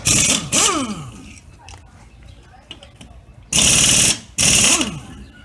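An air impact wrench on a 2002 Cavalier removes wheel lug nuts with a 19 mm socket in a shop, firing two loud, close buzzing bursts of about half a second each. Talk and a few clanks come before them.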